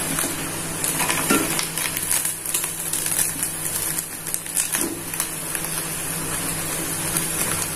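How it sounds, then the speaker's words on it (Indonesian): Krupuk mie frying in plenty of oil while stirred often, a dense crackling sizzle with frequent metallic scrapes and clatters of the utensil against the pan, close and steady. "Yang penting minyaknya harus banyak banget memang, dan harus sering diaduk."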